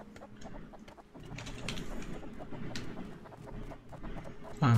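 A chicken clucks softly in the survival game Rust, short bursts scattered over a busy in-game background with no voices.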